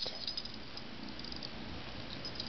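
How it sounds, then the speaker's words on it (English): A cat purring steadily and close by, a soft continuous rumble that runs unbroken through the whole stretch, with no voices over it. "There's the happy purr."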